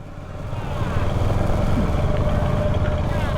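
Motorcycle riding along the Mumbai–Goa highway at night: a steady, close engine drone with a low rumbling hum and wind noise, holding an even level throughout with no talking.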